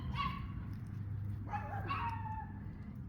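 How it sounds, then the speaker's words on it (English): A dog outdoors in a home yard gives a few short, moderately loud yips and barks, with a brief pause between bursts over a steady low background hum. "Don't mind the dog barking."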